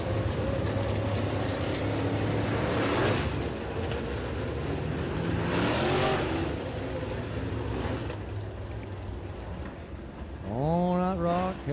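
Race cars at Rockcastle Speedway: a loud, steady roar of engines that swells twice as cars pass, then a near car screams by with a rising, falling engine pitch at the end.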